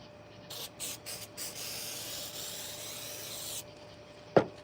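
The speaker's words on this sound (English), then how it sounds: "And then the activator, you spray it on the other piece." Miter glue activator sprayed onto a porous stone piece: several short hissing bursts at first, then one long steady spray, close and alone, ending with a sharp click.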